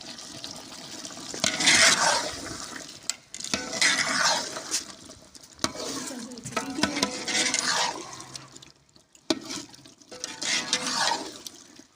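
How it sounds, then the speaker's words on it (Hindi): Potatoes tumbling into a pan of frying mutton curry (aloo gosht, a wedding-style degi dish) and being stirred, a wet sizzling churn in several bursts, with scraping and pauses, close and moderately loud. "अब इसमें हम आलू डालेंगे। गोश्त डाल दिया हमने,"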